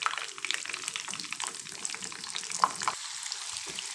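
Chicken frying in hot oil over a medium flame for homemade zinger shawarma, a steady close crackling sizzle with occasional stirring clicks, no voices.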